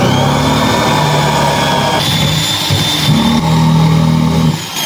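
An electric drill bores holes into a stuck washing machine pulsator during a home repair, giving a loud, steady motor whine that runs continuously and cuts off near the end.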